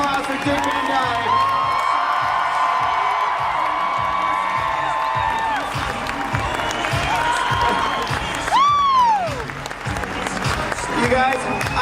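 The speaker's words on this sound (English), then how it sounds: "Everybody, please give a huge round of applause for Dick Van Dyke." A Comic Con panel crowd applauds, cheers and whoops for Dick Van Dyke at Salt Lake Comic Con 2017, with loud continuous clapping, rising shouts and whistles from the audience in a large hall.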